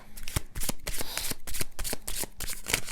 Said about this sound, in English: I have to pull more cards for you.